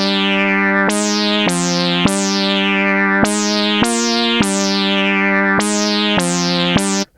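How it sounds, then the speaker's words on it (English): A Minimoog-style analog synth patch with a sub oscillator tuned up seven semitones to a fifth plays a bright, buzzy sequence of sustained notes, each opening with a sweeping filtered attack, steady and loud with no talking. "And it sounds like this."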